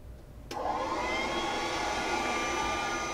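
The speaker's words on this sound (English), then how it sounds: "The gas vacuum will now start evacuating all of the air out of your Douglas bag" A gas vacuum pump switches on abruptly and runs with a steady, loud whine, pulling the air out of a Douglas bag for sports-science gas analysis. It holds a continuous drone with no talk.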